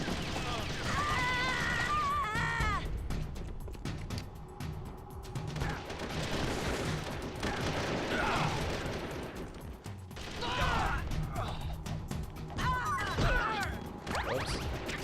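Gunfire in the stealth action game Metal Gear Solid: The Twin Snakes, dense and continuous under a busy game mix of effects and voices, with bursts of shots recurring across the whole stretch.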